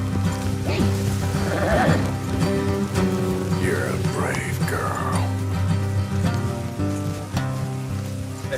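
A horse whinnies loudly in the video game Red Dead Redemption 2, amid steady rain and music-like drones, with a voice speaking over the scene.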